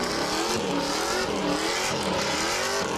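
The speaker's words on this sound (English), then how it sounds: "V8 powered Miatas." V8-powered Mazda Miata with a busy, continuous engine roar and hints of tire squeal, loud and close with steadily shifting revs.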